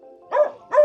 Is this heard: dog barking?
yes